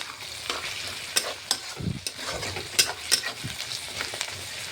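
Onions frying in a pan, stirred with a utensil, producing a continuous sizzle broken by several sharp scraping clacks and a brief low clunk, close and fairly loud, with no speech.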